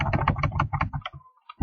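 Rapid keystrokes on a computer keyboard while entering a title in an Excel spreadsheet, a close, crisp run of clicks that stops briefly before one final tap.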